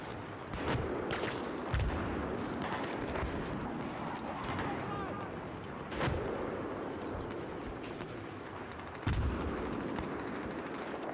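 Mortar rounds land in a frog-themed Battlefield-style shooter match, giving three heavy booming impacts about four seconds apart over constant battlefield rumble and scattered gunfire, with players talking throughout.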